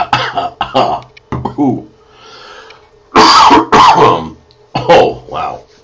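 Someone coughs and clears their throat in several rough bursts, close by, with a short exclamation between them.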